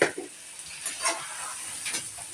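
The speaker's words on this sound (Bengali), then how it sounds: "এগুলো কষানি হয়ে গেছে, এখন মাংসটা ঢেলে দিচ্ছি" Meat tipped into a pan of spices already fried down for a Bangladeshi Eid curry with potatoes, giving a steady close sizzle with a few soft stirring scrapes and clatters.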